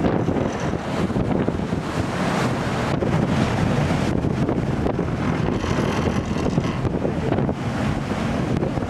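Strong Force 5 to 7 wind roars across the microphone with waves and spray washing around a ship at sea off Lundy Island, a loud continuous rushing with no talk.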